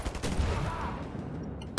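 Rocket launcher fire in the shooter game Wolfenstein: The New Order, a loud burst with a rumbling blast that fades, then a sharp second report at the end.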